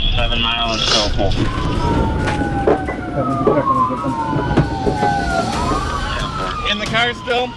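Police car siren wailing with rising and falling sweeps at an intersection crash scene in Detroit, loud and continuous over traffic rumble and shouting voices.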